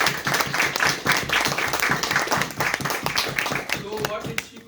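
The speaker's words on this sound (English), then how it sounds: "Let's clap for her." Audience applause at a Toastmasters farewell ceremony, a dense steady wash of many hands clapping for several seconds, with speech mixed in.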